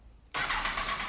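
A 2004 Kawasaki ZX10R sport motorcycle engine cranks and catches after a short quiet pause, then settles into a loud, steady, close-up idle with no talking.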